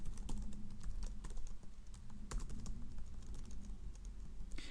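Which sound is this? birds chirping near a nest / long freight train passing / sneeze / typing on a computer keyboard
typing on a computer keyboard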